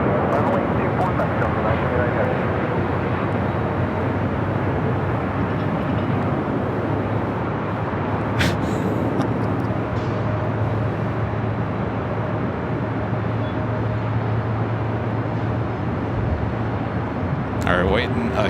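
An F-18 fighter jet roars past at LAX airport, a broad sustained rumble heard from a distance that persists under occasional talk.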